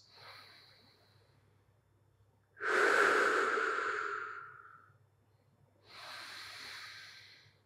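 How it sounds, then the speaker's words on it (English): Slow, deep breaths during a jiu-jitsu mobility routine: a faint inhale, then a long, loud breathy exhale lasting about two seconds, followed by another breath. The airy hiss sits close to the mic, with no talking. "make sure that you're deeply breathing in through your nose and out through your mouth or your nose"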